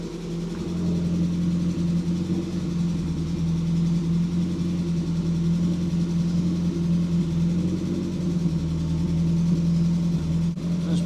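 A 500 BHP Stage 3 Audi S3 runs on a dyno, its engine held at a constant speed around 3,000 RPM, producing a steady, loud, even drone with a brief dip near the end.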